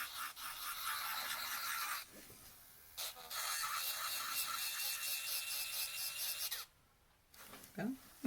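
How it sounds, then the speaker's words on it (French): An electric file buzzes in close, steady bursts while smoothing a handmade Christmas snowflake, running for a couple of seconds, stopping briefly, then running again before falling quiet, with small handling noises at the end. "Je vais prendre ma lime électrique."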